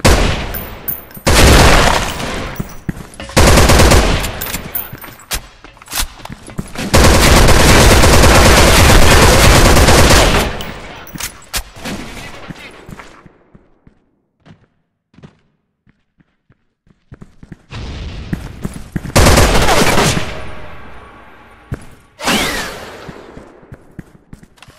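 Video game gunfire: bursts of rapid automatic fire, loud and close, coming in several long volleys separated by quieter gaps with faint scattered clicks and steps.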